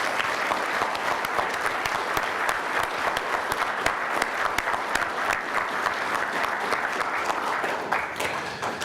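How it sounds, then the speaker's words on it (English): At a Kern County Fire Department awards ceremony, a large audience gives a sustained round of applause, dense and steady clapping filling the hall for several seconds. "Let's give them one more round of applause."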